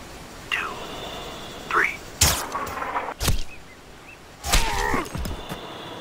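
Sniper rifles fire in the video game Sniper Ghost Warrior, sharp single cracks spaced a second or so apart, three or four distinct shots with short echoing tails, interspersed with quieter radio-style speech.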